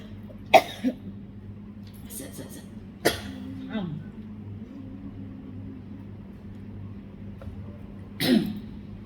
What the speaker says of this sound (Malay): Kadang-kadang bila banyak orang macam dia suka batuk.